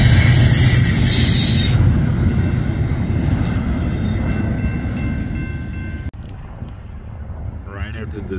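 A westbound freight train rolls past on the inner track at a Woodland Street crossing in Olathe, Kansas, its loud steady rumble and rattling cars fading after about six seconds into quieter rolling with a brief squeal near the end.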